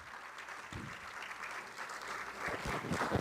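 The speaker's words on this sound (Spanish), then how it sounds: "Recibimos con unos fuertes aplausos a nuestro ponente en esta noche" A live audience applauds in welcome at an evening master lecture on chemical hazards in food safety, steady clapping throughout, with some low thumps and murmur underneath.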